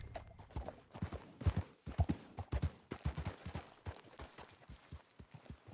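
Horse hooves clip-clop in a quick, irregular rhythm in the video game Red Dead Redemption 2, moderately loud and close, with no other sounds.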